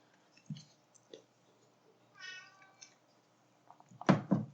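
An indoor house cat meows once, faint and fairly brief, asking to be let out; a few soft knocks and clicks come before it, and a louder thump-like burst follows near the end.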